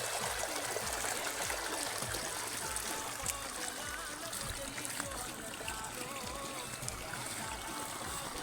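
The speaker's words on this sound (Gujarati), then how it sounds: "આમ પાણી વહેતું જાય છે" Water gushing out of an opened farm water tank, a steady rushing, trickling flow that holds constant throughout, close by and fairly loud, with some voice-like murmur in the background.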